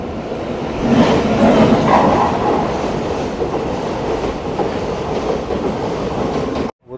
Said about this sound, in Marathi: तर ही ट्रेन आपल्या क्रॉस होता.